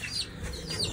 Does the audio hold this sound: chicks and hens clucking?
yes